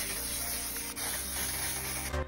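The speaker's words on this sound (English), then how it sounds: "absolutely blasting the cape with a ton of glitter spray" Glitter spray blasts onto a cosplay cape in one long continuous aerosol hiss, loud and close, cutting off near the end, with no talking.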